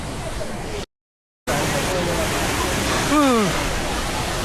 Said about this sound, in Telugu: ఫైనలీ మనం వాటర్ ఫాల్స్ దగ్గరికి వచ్చేసాము.